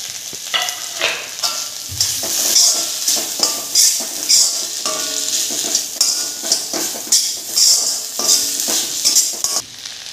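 Seafood Maggi noodles with spring onion being stir-fried in a pan, a bright continuous sizzle broken by rhythmic scraping and clinks of a spatula, close and fairly loud.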